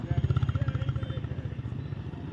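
A motorcycle engine runs close by with a steady, pulsing low throb that gradually eases off, heard alone without talk.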